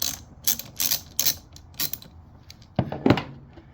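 A ratchet loosens the bolt on the negative battery terminal of a Jeep Wrangler JK, making short bursts of quick metallic clicking with brief pauses between strokes, close and clear.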